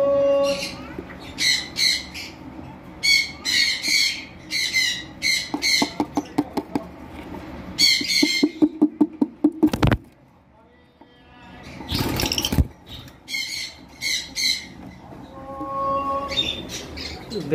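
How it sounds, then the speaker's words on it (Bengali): A pair of pet master pair birds kept with a nesting box on a balcony squawk in sharp, repeated bursts close by, with rapid clustered calls and pauses, while a person talks between and over them. "এগুলো কিন্তু মাস্টার পেয়ার পাখি, দেখতে পাচ্ছেন।"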